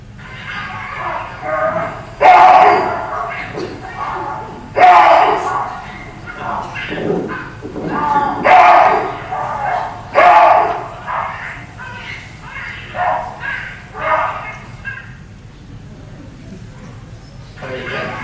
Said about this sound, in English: Listen to the response to the wahoo bark by the baboon